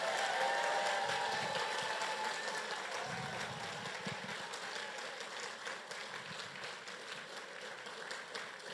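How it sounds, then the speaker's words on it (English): Sustained applause from an audience honouring graduates at a graduation ceremony, an even rattling patter of many hands that starts strong and slowly fades in loudness across the span. "I want the rest of us to give you a huge round of applause."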